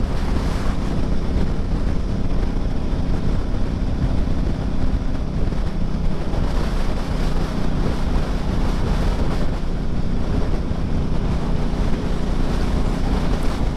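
Strong, gusty wind roars steadily against the microphone on a hilltop, with a rumbling surf-like wash underneath and no voices.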